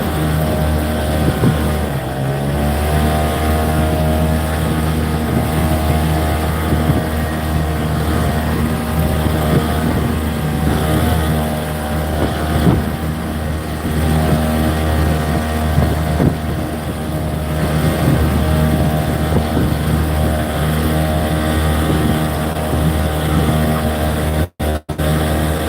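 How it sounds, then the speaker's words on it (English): A small outboard motor drives a fishing boat at full throttle, a loud steady drone with a constant hum that runs unbroken, wind buffeting the microphone, and a brief cut near the end. "Little motor's pushing us as hard as it can."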